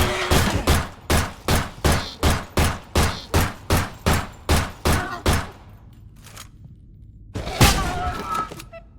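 Gunfire in a PS2 horror video game, an evenly spaced volley of about a dozen loud heavy shots, then a pause, a lighter crack and one final booming blast.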